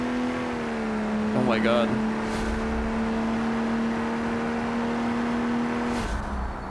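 A drag-build car in BeamNG roars at full throttle, a steady loud engine drone holding pitch, while a man exclaims over it.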